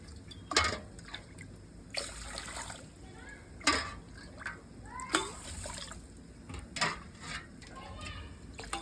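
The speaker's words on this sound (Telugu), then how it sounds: "ఐదు గ్లాసులు నీళ్ళు వేసుకుంటున్నాను నేను" Water splashes into a pot in several separate pours, each a short gushing burst, with quiet pauses and a little talking between them, five glasses in all.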